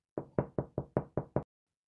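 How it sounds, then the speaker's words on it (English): Seven sharp, evenly spaced knocks on a door, loud and close, then sudden silence. "Knock on the door"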